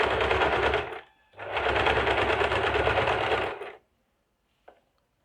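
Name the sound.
sewing machine stitching a blouse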